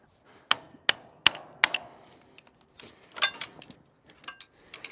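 An improvised hammer, not a real one, strikes while turning a rake into a wood bundler: several sharp, close knocks in an uneven rhythm, followed by lighter clustered taps.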